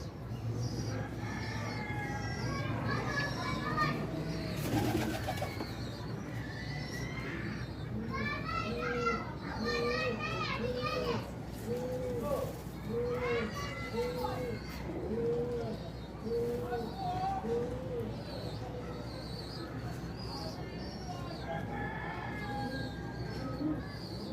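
A flock of pigeons coos steadily in repeating throaty phrases throughout, while children play and chatter loudly nearby.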